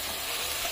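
A fish curry, a mackerel curry being prepared, is stirred in a pan and bubbles and sizzles steadily in a short, close, continuous hiss with no talking.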